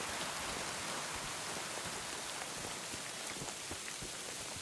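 Steady, dense rain from Kingdom Come Deliverance 2 patters on surfaces, a constant close hiss speckled with individual drop taps, with no voices over it.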